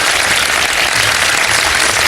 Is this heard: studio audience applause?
yes